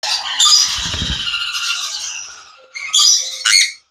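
A sun conure parrot gives loud, harsh, close squawks, one long screech followed by a pause and two shorter sharp calls.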